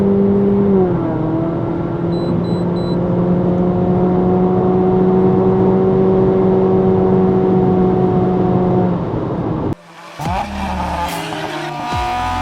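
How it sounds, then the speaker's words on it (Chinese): A tuned Honda Civic FL1 1.5 EX in Sport Mode accelerating hard from inside the cabin, its engine drone climbing steadily with simulated gear-shift steps, then cutting off abruptly into other road noise near the end. "在 Sport Mode 的情况下，我踩完它会好像模拟换挡的嘛"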